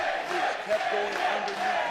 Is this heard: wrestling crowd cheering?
yes